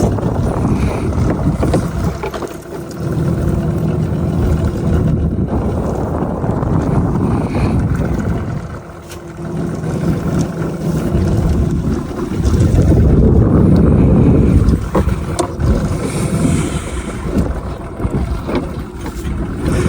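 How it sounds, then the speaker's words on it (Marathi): A fishing boat at night on the Konkan deep sea, buffeted by strong wind: a loud, continuous rumbling roar of gusts and hull motion that swells and eases, with no voices. "वाऱ्याची पूर्ण बोट हलते."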